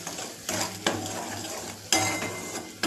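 Spices and vegetables for a jhanjhanit pattvadya bhaji being sautéed in a pan, soft sizzling under a few sharp scrapes and clinks of a spoon against the pan, close and fairly quiet.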